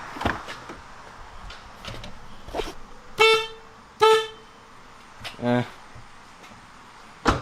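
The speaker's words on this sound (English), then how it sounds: "It's a working horn" Several short blasts from a Lexus dual horn fitted to a Corolla, near and loud, sounded in a few separate bursts over faint background noise and clicks.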